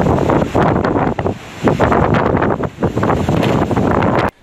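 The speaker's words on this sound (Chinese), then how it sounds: "大浪一波又一波，不但让船身剧烈上下起伏，甚至浪花还在船头炸开" Big waves slam against a ferry heading out from Baisha harbour on Xiaoliuqiu toward Donggang, with rough, surging rushes of water and heavy wind buffeting the microphone in loud, irregular bursts before an abrupt cutoff.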